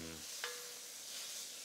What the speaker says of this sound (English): That's the sound of the vegetables cooking down.